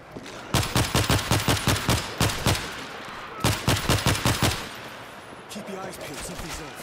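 Automated turret fire in World War Z, during a Tokyo mission escorting a bus: two long volleys of rapid, evenly spaced loud shots, a brief pause between them, then a softer, more scattered rattle at the end.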